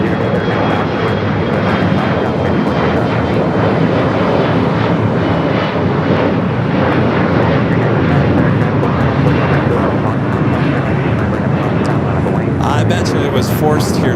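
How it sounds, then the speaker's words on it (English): A Boeing 787 Dreamliner bound for Casablanca takes off from the south side of LAX with a loud, sustained jet engine roar that fills the whole stretch, while people talk nearby. "We got the Dreamliner heading to Casablanca. Heading here for south side takeoff."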